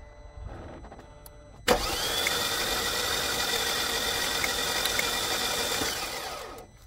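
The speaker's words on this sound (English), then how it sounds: "Let's go ahead and crank the engine to push all the possible" A hydro-locked car engine cranks over steadily for about five seconds with a whirring, mechanical drone, then stops; quiet rattling before it starts.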